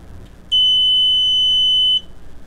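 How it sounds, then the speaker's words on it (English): A single shrill, high-pitched electronic buzzer from a Piper Computer Kit blares steadily for about a second and a half, then cuts off abruptly. "And it's a very annoying buzzer."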